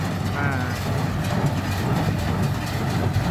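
A New Holland 565 hay baler runs in a large rice field, pressing straw bales with a steady, close rhythmic mechanical clatter over a low engine rumble.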